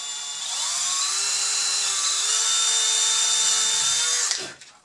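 A power drill bores into the frame of an RC model conversion of a Bruder Sprinter truck, giving a steady high whine that holds for about four seconds before spinning down at the end. It is close and loud, with no talk.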